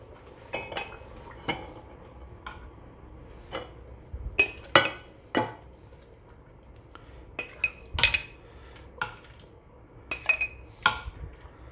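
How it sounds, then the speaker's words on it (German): Hot Hungarian lecho being ladled into glass jars in a home kitchen, heard as a series of sharp metal-on-glass clinks and scrapes at irregular intervals, close and fairly loud with quiet pauses between. "Jetzt werde ich das ausmachen und in Gläser abfüllen."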